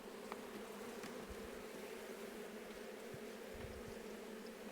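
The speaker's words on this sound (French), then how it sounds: "je vais rajouter un petit peu d'abeilles" A dense, steady drone of honeybees fills the air around a hive during a split with a queen cell introduced, an unbroken close buzz with faint light knocks underneath.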